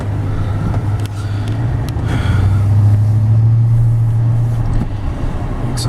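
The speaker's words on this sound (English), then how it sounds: "The exhaust note also sounds so great." A stock exhaust on a 2007 Ford F-150 Harley-Davidson Edition pickup gives a steady, deep engine drone while driving, rising slightly in the middle before easing back, with no talking.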